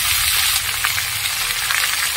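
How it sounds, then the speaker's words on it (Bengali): Chopped chilies and bottle gourd sizzle in hot oil, a loud, close, steady frying hiss with no pauses. "এবার আমি ছেড়ে দেব এই কেটে রাখা লঙ্কা আর এই কুচিয়ে রাখা লাউগুলো"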